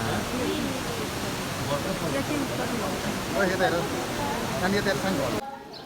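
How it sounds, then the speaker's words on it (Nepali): A waterfall inside Gupteshwar cave gives off a steady, echoing wash of water noise with voices murmuring through it, until it cuts off abruptly at the end. "यो के गुप्तेश्वर गुफाभित्र रहेको झरना।"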